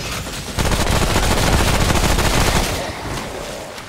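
Rapid automatic gunfire pours at a crawling enemy in the video game Remnant from the Ashes, a loud, dense burst that runs about two seconds before tapering off.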